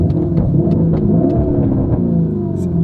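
Lamborghini Urus engine revving, a steady loud low rumble from the engine held throughout, with brief sharper bursts of throttle above it, heard from close by.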